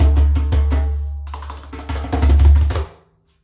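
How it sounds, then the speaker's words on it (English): A djembe African hand drum played in a short rhythmic pattern: deep booming bass strokes mixed with sharper slaps, close and loud, ending abruptly after about three seconds with no voice. "It kind of gives you an African rhythm sound like this."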